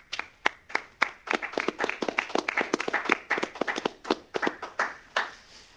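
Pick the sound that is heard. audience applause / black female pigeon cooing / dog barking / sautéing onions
audience applause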